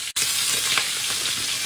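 Vegetables and spicy tofu stir-frying in a hot pan, a steady loud sizzle with faint stirring scrapes, broken only by a brief gap near the start.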